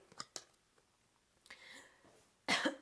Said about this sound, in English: I don't know why I had to cough there